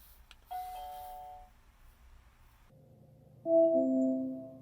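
A two-part Nest Hello smart doorbell chime plays through a Google smart home speaker, a soft high tone followed by a louder, lower ringing tone, in an otherwise quiet room.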